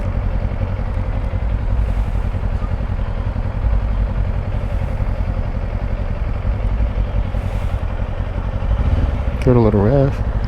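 A 2024 Kawasaki Ninja 500 KRT SE ABS motorcycle runs steadily at idle nearby, then its engine revs up sharply near the end with a rising, wavering whine, while a voice talks over it.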